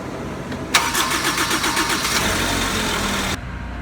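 A Zamboni ice resurfacer engine starts with a sharp catch and settles into a steady, loud mid-pitched running drone after an oil change, then a high hiss component cuts out near the end while the motor keeps idling.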